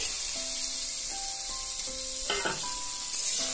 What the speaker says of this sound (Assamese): বাটাৰৰ লগত গাজৰ আলু ফ্ৰাই কৰি দিম